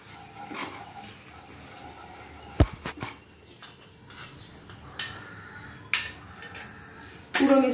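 Flour mixture being stirred into melted butter in a pan for white sauce: quiet scraping with a few sharp clinks and taps of a utensil against the pan, spaced irregularly.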